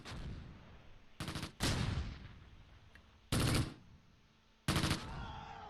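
Mortar fire in the World War II strategy game Close Combat Gateway to Caen, on the Fontenay-Caen road at night: four or five loud, sharp blasts of fire arrive at irregular intervals, separated by quieter stretches.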